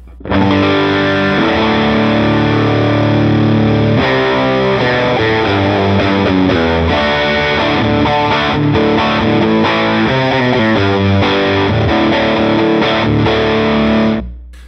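A heavily distorted electric guitar through a Line 6 Helix with a sluggish sag setting plays sustained chords and riffs, loud and continuous, with a low steady amp hum underneath.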